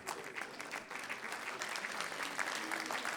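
An audience at a live concert claps for a singer joining the band, a steady wash of many hands at moderate distance that holds evenly throughout.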